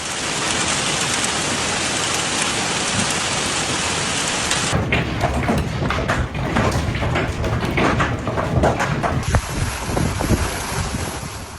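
A severe thunderstorm in Bavaria, Germany, with torrential rain pouring steadily and loudly, rumbling thunder and strong wind buffeting the microphone, with no speech.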